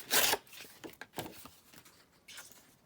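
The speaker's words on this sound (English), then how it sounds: "So let's just tear this down." Scrap background paper torn by hand at a craft table: a loud ripping burst at the start, then shorter tearing rasps and rustles, close up, with no speech.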